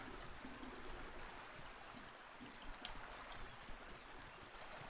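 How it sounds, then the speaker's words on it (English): Loud, continuous rushing and splashing water close by in the dinosaur survival game The Isle, a steady wash with faint scattered clicks and no talk. "all of a sudden the water beside me got super loud, and I thought something was splashing"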